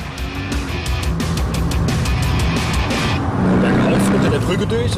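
A Mercedes SL 65 AMG Black Series pushed hard through the corkscrew on a racetrack, its engine roaring loud and steady from inside the car, with someone talking over it.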